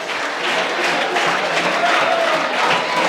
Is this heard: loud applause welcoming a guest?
yes